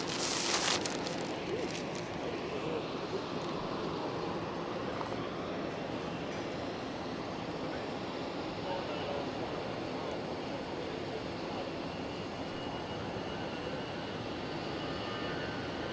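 An EasyJet airliner rolls for takeoff at Geneva Airport, a steady broadband jet roar holding level throughout at moderate distance, with a brief sharper burst at the start.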